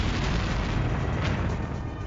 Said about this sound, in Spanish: La fuerza de la explosión paró la batalla en seco.